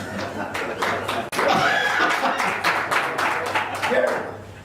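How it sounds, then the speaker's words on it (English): Scattered applause at a Winnebago County, Illinois board meeting, a few hands clapping in an irregular patter under murmuring, with light chuckles from the room and chatter continuing around it. "I don't know how to take that clap."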